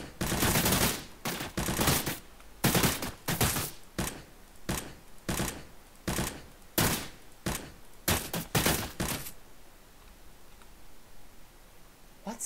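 Gunfire from a multiplayer first-person shooter built in Unreal Engine 4 rings out in rapid bursts separated by short pauses, loud and close, then gives way to quiet near the end.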